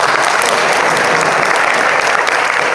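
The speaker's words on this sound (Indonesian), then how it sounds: "Tepuk tangan buat Raihan." A crowd at a youth democracy forum in Indonesia gives a student named Raihan a loud, dense round of applause that stays even and unbroken throughout.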